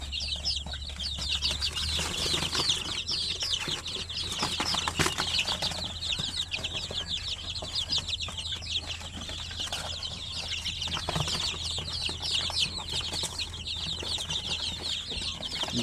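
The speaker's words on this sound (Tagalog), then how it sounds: "Mga nasa mga 40 plus yung mga sisiw na nandito." Chicks and chickens on a farm raising poultry for sale by the kilo, with dense continuous high chirping and peeping from a crowd of around forty chicks, occasional clucks and wing flutters, steady throughout with no talking.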